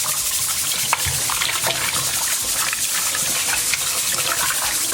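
Tap running steadily into a sink while chicken is washed with vinegar for a Jamaican Sunday dinner, a constant close gush of water with small splashes and clatters.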